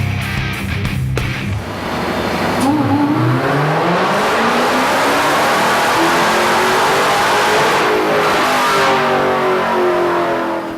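A supercharged Dodge Challenger Hemi V8 with a new throttle body revs hard on a dyno, loud and close, the engine note climbing steadily with supercharger whine before easing off near the end.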